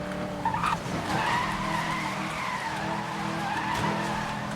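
A car accelerating and skidding in the 2012 Need for Speed: Most Wanted video game, a loud revving engine with a long rising tire squeal and skid, continuous and close with no talk.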